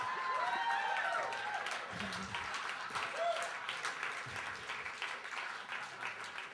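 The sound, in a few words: audience applauding a poem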